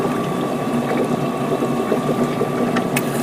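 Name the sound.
small siphon pump moving water in a model diorama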